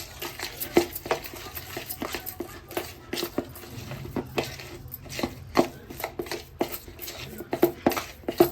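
A fish fry marinade is mixed with oil in a bowl, producing repeated sharp spoon clicks and wet scraping strokes at an irregular, brisk rhythm, close up and without talking.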